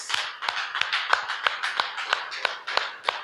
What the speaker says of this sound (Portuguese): Mais uma salva de palmas ao Senhor Jesus